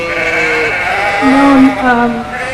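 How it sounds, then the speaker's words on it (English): Romney sheep bleat at a sheep show, several overlapping calls close and loud, one drawn-out low bleat standing out, with a show commentator's voice in the background. "the Romney sheep as a breed"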